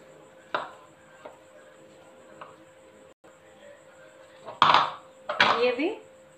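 Besan (gram flour) being mixed with a little oil in a bowl, making a few scattered clinks and scrapes that grow into a busier stretch of stirring near the end. The sounds are close by and there is no talk.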